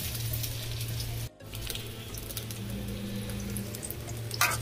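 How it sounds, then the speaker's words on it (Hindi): Onion and garlic sauté in a little oil with a steady close sizzle and a low hum underneath, briefly cut by a sharp dropout, then resuming with faint clinks and stirring near the end, with no talking. "सबसे पहले मैं जो है लहसुन और प्याज को डालूँगी थोड़ा से तेल में"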